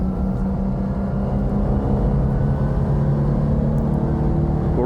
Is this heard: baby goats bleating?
no